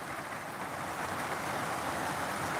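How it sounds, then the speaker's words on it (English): Rain falls steadily outdoors, a soft continuous hiss of drops with faint wind rumble, even and fairly distant with no distinct individual impacts. "Look at that rain. Yeah. And it's raining that way."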